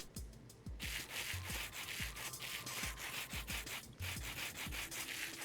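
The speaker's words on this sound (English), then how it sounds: "Okay, time to sand this." Rhythmic rasping strokes of sanding an item in Minecraft, a repeated scratchy rubbing with brief pauses between passes, steady and fairly close, with no talking over it.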